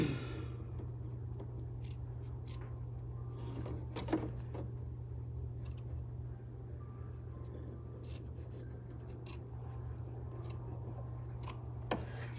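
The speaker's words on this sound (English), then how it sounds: "It does help if you hold it up as you clip. It just kind of makes it cut smoother." Scissors snip through felt in a machine-embroidery setting, a series of sharp, brief cuts scattered over a steady low electrical hum, fairly quiet and with no talking.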